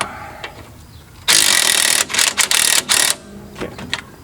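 A 15 wrench ratchets on a strut hex nut of a P80 Volvo front strut, giving a loud burst of rapid clicking with several short ratcheting bursts, then faint knocks.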